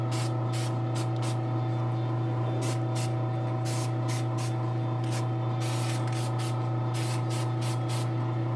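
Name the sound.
spraying paint onto a garage kit figure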